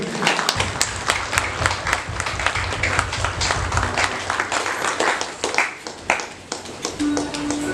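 A congregation applauds at the blessing of a new church as the doors are opened, a dense, sustained clatter of many hands lasting several seconds, with a voice briefly heard near the end.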